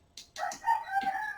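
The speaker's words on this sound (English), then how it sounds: "Your rooster is calling you." A rooster crows in the background of a Madden 21 football game session, its drawn-out cock-a-doodle-doo rising and holding for about a second, moderately loud against quiet room sound.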